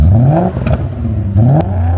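A 1994 BMW E34 530i wagon's engine revs up twice, rising in pitch with each acceleration, loud and close, with a throaty exhaust rumble between pulls.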